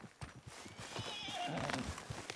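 Horse whinnying with clip-clopping hooves in the video game Red Dead Redemption 2, at dusk with wolves about; the neigh rises mid-clip over steady hoofbeats and faint background sound.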